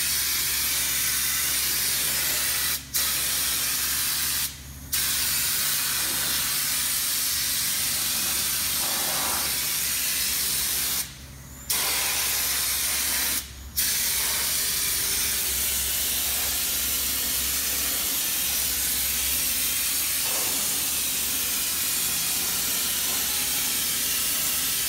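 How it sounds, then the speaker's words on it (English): Fluid Film rust-proofing is sprayed onto the underside of a lifted pickup truck in a New England shop, a steady close hiss broken by a few brief pauses in the spraying. "Jermaine over here is getting ready to shoot the underside with fluid film"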